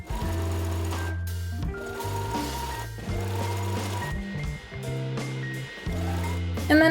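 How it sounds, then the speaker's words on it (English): Sewing machine running zigzag stitches along the edge of blanket fabric for pajamas, in steady motor bursts with short pauses between runs, close and fairly loud with no talking. "And same thing with the zigzag stitch,"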